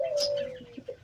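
Teddy pigeons give a soft, low coo that holds steady, then a few short coos follow, close by with faint chirps in the background.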